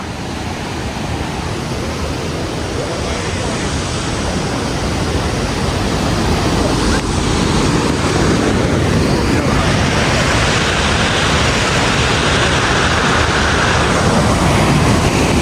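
Water from a small waterfall in Snowdonia, Wales, rushes in a steady, loud hiss that grows slightly stronger partway through, with no pauses.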